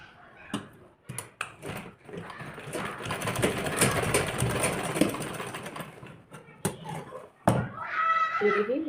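A sewing machine stitches a blouse in short bursts, then one long steady run, with clunks from handling the fabric and a voice briefly heard near the end.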